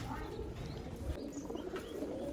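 Pigeons coo softly in a low, steady murmur at a cage net, faint and continuous with a few higher chirps over a background hum.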